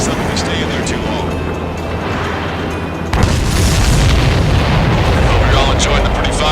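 Heavy booming explosions and dull blasts rumble continuously through an Ace Combat video game mission against an enemy air defense network, dense and loud, with a sudden louder surge partway through.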